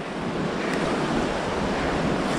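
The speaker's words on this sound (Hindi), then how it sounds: "इसके नीचे से बह रही है किशनगंगा नदी" The Kishanganga river flows beneath a swaying bridge at Mazgund in Kashmir, producing a steady, broad rushing roar mixed with wind buffeting, and no one speaks.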